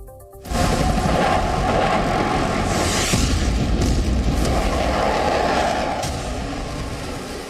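A sudden loud boom from an Indian Army demonstration explosion erupts, then a heavy, sustained roaring rumble continues for several seconds before slowly easing.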